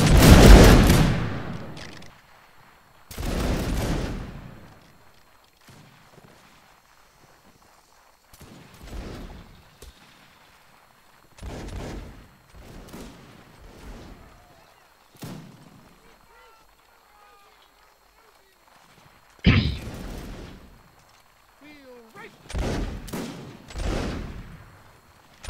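Musket volleys in the Mount & Musket game during a linebattle: ragged crashes of massed gunfire in several separate bursts, some loud and close, others fainter, between quiet stretches with shouted commands and talk.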